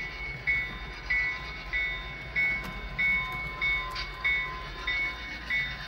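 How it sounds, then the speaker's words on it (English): Model train F units back out onto a layout, heard as a quiet steady mechanical running sound with a regular rhythmic chirp repeating about every half second, faint and alone with no talk. "we're seeing him back out onto the layout"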